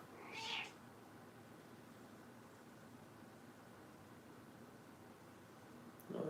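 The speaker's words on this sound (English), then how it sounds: "You're a big kitten." A pet cat gives a single short meow near the start, then quiet room noise follows, with a faint sound at the very end.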